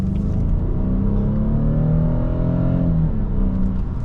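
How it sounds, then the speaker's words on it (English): A 2015 BMW 328i xDrive accelerates hard out of a turn, its engine note climbing in a smooth rising drone that dips near the end as it shifts, heard from inside the car with no talk. "As always, we'll accelerate out of this turn."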